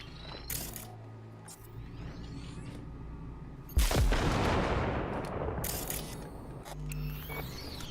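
A grenade detonates in Cyberpunk 2077, a sudden loud broadband blast partway through with a long rumbling decay, set against a busy game soundscape with some scattered lighter impacts.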